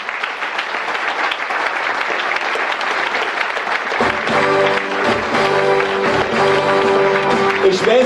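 Audience applause fills an old Cologne brewery hall, loud and sustained for the whole stretch, with cheering voices and singing or whooping rising over the clapping in the second half.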